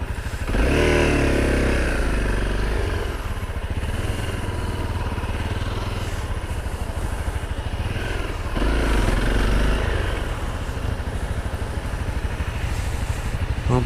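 A Honda CRF250L motorcycle engine runs loud and close while riding in second gear, a steady throbbing drone that swells with throttle rises near the start and again midway.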